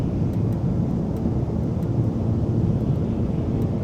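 A Cessna 414 twin-engine aircraft drones on in a steady, close, low roar during desert flight, with wind rush and no voices.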